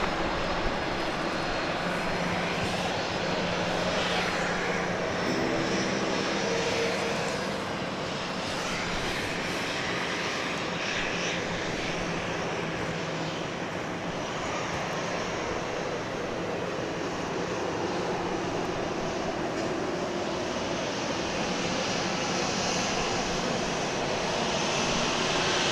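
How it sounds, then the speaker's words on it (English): At Dallas Love Field, an airliner lands and taxis toward the gate, its jet engines roaring loud and continuous with a broad, rushing wash of noise that never drops away. "This aircraft wasting no time getting to the gate."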